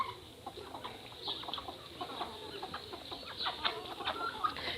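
Free-range country chickens cluck and murmur softly nearby, with scattered short calls and low rustling ambience and no one speaking.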